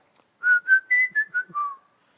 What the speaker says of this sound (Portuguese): todo mundo sabia assobiar